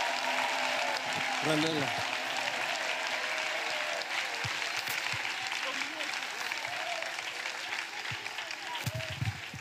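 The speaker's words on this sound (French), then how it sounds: "Let us clap for Jesus." A church congregation applauds for Jesus at a prayer gathering, a steady wash of clapping filling the room while a voice speaks over it.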